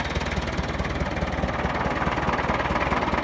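A 1967 International Harvester B275 vintage tractor runs with its PTO engaged, driving a saw bench, a loud, close engine throb with a rapid, regular knocking pulse.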